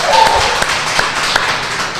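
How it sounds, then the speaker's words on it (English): Clapping from a small group in a live sports studio, a dense patter of hand claps with a few sharper individual claps standing out, fairly close. "So yeah, you can clap once again."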